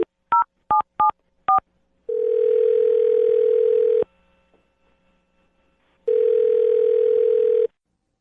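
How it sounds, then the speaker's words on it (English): A telephone call being placed: four quick keypad tones, then two long ringback tones separated by a pause of silence, clear and close. "I'm going to dial her phone number right now."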